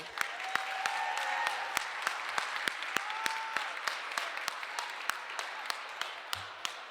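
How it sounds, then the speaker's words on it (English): Scattered audience clapping at a Black Entrepreneurs Day event at the Capitol, faint and distant, with sharp individual claps standing out over a soft crowd wash and a brief murmur of voices. "give her another round of applause"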